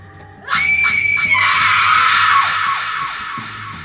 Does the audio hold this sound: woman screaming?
yes